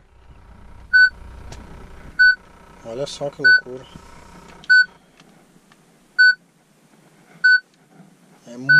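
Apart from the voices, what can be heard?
car radio beep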